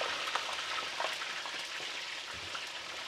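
Mojarra fish frying until golden in hot oil, a steady crackling sizzle with scattered pops and spits, moderately close and continuous, with no voices.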